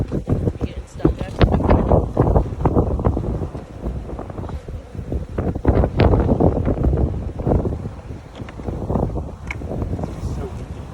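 Strong gusts of wind buffet the microphone outdoors during a beehive nuc installation, roaring in uneven surges that rise and fall, with a person talking through the noise.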